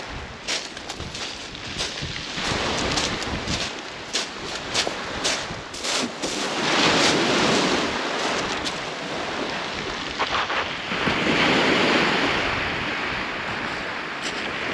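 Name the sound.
crosswind blowing at the shore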